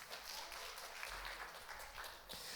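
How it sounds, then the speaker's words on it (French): A church congregation applauds during a Sunday service, a short burst of soft, fairly distant clapping that stays even and unbroken. "vous pouvez applaudir votre voisin qui a bien répondu."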